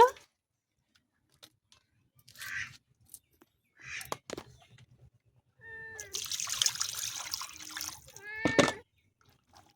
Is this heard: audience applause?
no